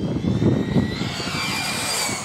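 Losi 8ight RC car on a Mamba Monster system at full throttle, a high electric motor whine rising steadily in pitch as it accelerates away, loud at first and then held, with no talk.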